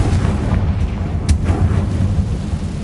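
A Confringo blasting spell detonates in the Hogwarts Legacy video game, a single muffled boom rising out of a steady rumbling game ambience, with no talk over it.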